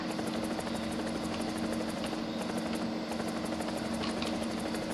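Loud, continuous aircraft engine roar in the video game War Thunder, with a steady low hum and rhythmic rotor-like pulsing, unchanging throughout; the engine cannot be shut off.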